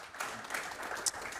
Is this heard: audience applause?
yes